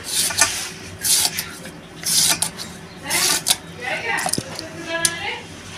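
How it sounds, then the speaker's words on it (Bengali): A potato chopped into small pieces with a knife gives repeated rhythmic scraping cuts in bursts roughly every second, close and fairly loud, with a voice talking over them. "আলুটা কেটে নিচ্ছি, কুচিয়ে দেবো ছোট ছোট করে"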